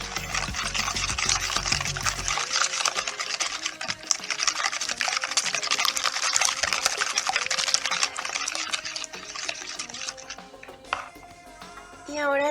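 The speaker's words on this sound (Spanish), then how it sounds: "Ahora agregamos una taza de aceite y volvemos a batir." Cake batter for a coffee cake, with a cup of oil just added, is beaten in a bowl, a continuous busy whirring and scraping that holds steady at moderate volume.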